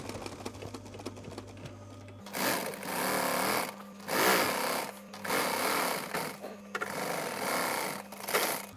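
A sewing machine stitches a VW T5 Transporter seat cover backrest face. It runs in several loud, rapid bursts separated by short pauses, after a quieter start.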